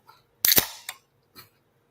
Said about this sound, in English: Then, in my case, I'm going to pop.